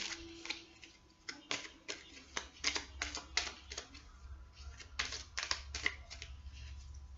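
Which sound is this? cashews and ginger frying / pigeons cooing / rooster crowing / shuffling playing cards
shuffling playing cards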